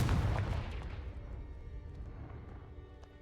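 A Confringo spell blast in Hogwarts Legacy lands as a single heavy boom at the start, then a rumbling tail that slowly fades.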